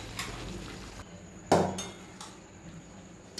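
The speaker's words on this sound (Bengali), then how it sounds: "এবার আমি কড়াই থেকে নামিয়ে নেব।" A metal pan of cooked drumstick (sajna danta) and poppy-seed curry clatters once as it is lifted off the wok, a single sharp clank followed by faint scraping in a quiet kitchen.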